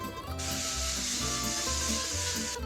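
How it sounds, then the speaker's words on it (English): A continuous hissing burst of cooking spray oil misted onto pita bread in a ceramic bowl, lasting about two seconds, close and moderately loud over a low kitchen background. "So I'm just going to use some spray oil"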